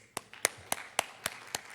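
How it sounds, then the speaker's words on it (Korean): Clapping during a Sunday church service, offered as encouragement: six crisp, evenly spaced claps in a steady rhythm, fairly faint against a quiet room. "우리 같이 격려의 박수로 우리 같이"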